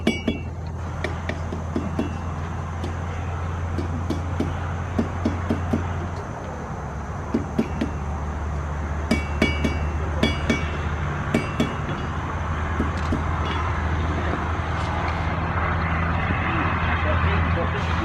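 Hammer blows strike hot iron as a blacksmith curls a scroll end for a hook, sharp metallic clinks arriving irregularly over a steady low hum, with a voice talking between strikes.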